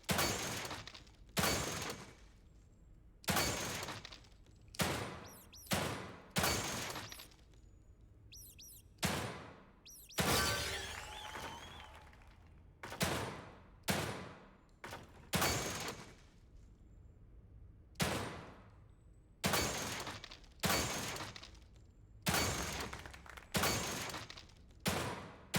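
Pistol gunfire in The Evil Within 2: a series of sharp, loud single shots spaced irregularly over about twenty-five seconds, each cracking out and decaying quickly, with near silence between.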